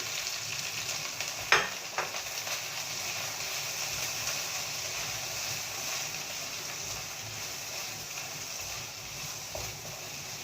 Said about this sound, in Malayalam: സവാള ഒന്ന് വഴളേണ്ട ആവശ്യമുണ്ട്.